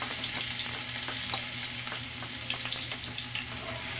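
Ginger and garlic sizzling in a frying pan as the start of kinamatisang tuyo: a soft, steady crackling fry with faint stirring sounds, close and uninterrupted by speech.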